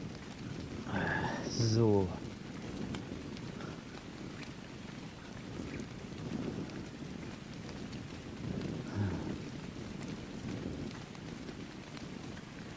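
Rain in the survival game Ark Survival Evolved, a steady patter with a low thunder rumble, under brief speech and a few short tonal sounds near the start.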